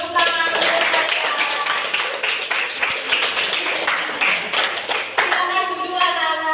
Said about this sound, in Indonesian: Beri tepuk tangan untuk saya.